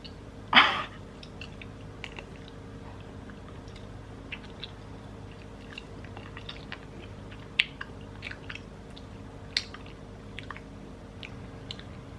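Homemade jelly is chewed close to the mic, with soft, squishy mouth sounds and small sticky clicks spread quietly across the clip after a brief louder bite.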